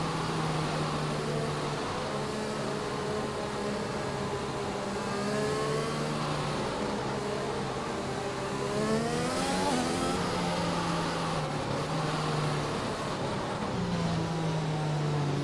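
Race cars in a sim-racing league round at Belgium restart after the safety car comes in out of the Bus Stop chicane, several engines revving and rising in pitch as they accelerate, a continuous loud whine with gear changes.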